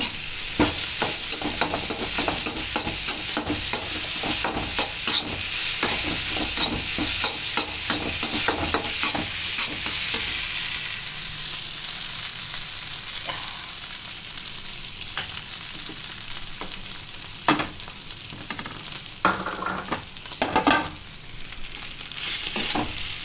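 Food frying hard over a high flame while being stirred, a loud steady sizzle broken by frequent sharp scrapes and clatters of the utensil, easing slightly in the second half.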